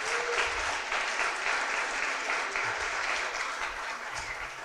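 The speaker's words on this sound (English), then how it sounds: "So a big round of applause." A conference audience in a large hall applauds warmly, a steady dense patter of many hands clapping at moderate distance and tapering slightly near the end.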